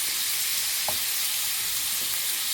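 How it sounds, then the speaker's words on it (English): Meat browning in a pan for gravy, stirred with a wooden spoon: a steady broadband sizzle throughout, with one soft scrape of the utensil near the middle. No voices. "this is just basically me stirring a bunch of meat"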